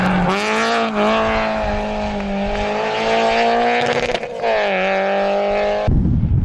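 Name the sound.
rally car passing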